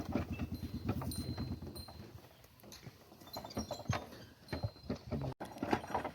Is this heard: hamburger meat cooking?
no